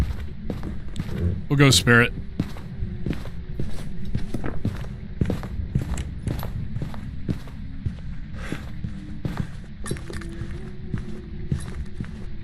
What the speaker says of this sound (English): Yeah, normal footsteps.